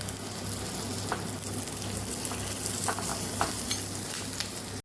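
Steady sizzling of garlic frying in butter, a constant crackle with occasional stirring scrapes, close and fairly quiet, no voices.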